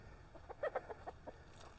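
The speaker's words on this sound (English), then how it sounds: "These roosters really want to say hi." Several short clucking calls from a rooster, close and fairly quiet, in a brief burst with no talking.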